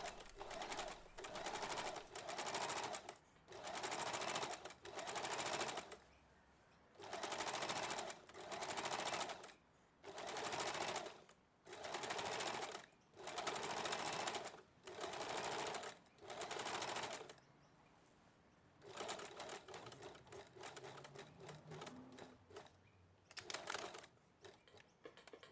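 A sewing machine runs two rows of stitching on a dress in regular bursts a second or two long, separated by short pauses, with a quieter, more broken run of stitching at the end.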